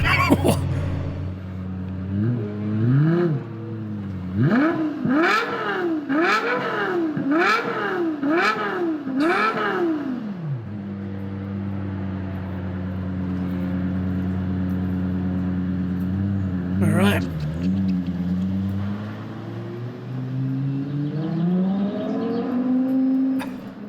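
A Lexus LFA engine revs hard in a series of rapid high-pitched blips, then settles into a long steady idle and gives one more sharp rev, all loud and close. A voice speaks briefly.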